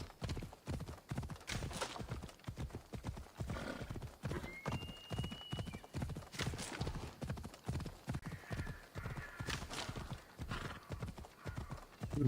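Rhythmic hoof clip-clop of a horse galloping in Assassin's Creed Odyssey, steady and close throughout, with a few whinnies and neighs over the hoofbeats.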